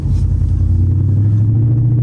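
Straight-piped twin-turbo V8 Audi RS7 running loud and close from inside the car, a dense low exhaust drone that steadies into a strong, even rumble without a break.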